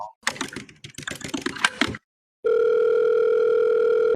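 Rapid clicking keypresses of a phone number being dialed, a brief pause, then a steady, loud telephone tone sounding continuously to the end.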